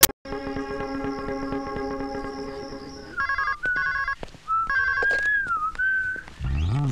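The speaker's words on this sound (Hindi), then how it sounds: "आनंद को फोन कर लेता हूँ, कुछ ना कुछ इंतजाम तो हो ही जाएगा।" A shrill electronic telephone ringtone in a 2005 Hindi film sounds steadily, followed by a run of short chirping tones and warbling beeps that stop and start.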